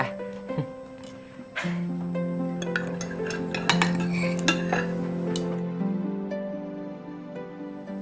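Metal cutlery clinks and scrapes against plates as people eat fried rice at a villa, a run of bright, irregular close-up chinks and taps with a faint background hum.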